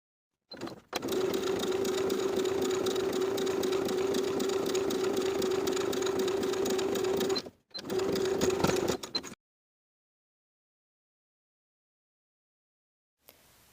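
Close by, a sewing machine runs a long continuous burst edge stitching a hem along a bottom inner fold, stops briefly, runs again for a short stretch, then falls silent.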